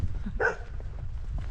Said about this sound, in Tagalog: May aso pa oh. Nagtatatahol yan oh.